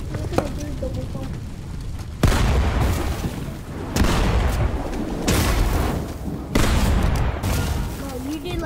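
Pump shotgun blasts in Fortnite fire in pairs, loud booming shots with sharp attacks recurring about every one to two seconds, while players talk over the gunfire.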